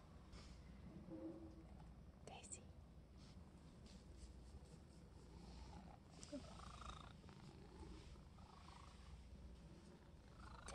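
A pet cat purrs close up as a steady low continuous rumble, with someone speaking affectionately over it.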